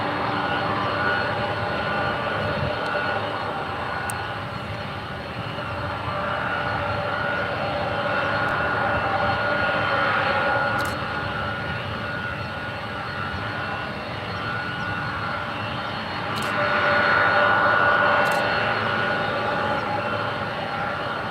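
A Boeing 737 on landing approach at SFO: a distant jet engine roar that swells and fades in broad waves, rising to its loudest late in the pass.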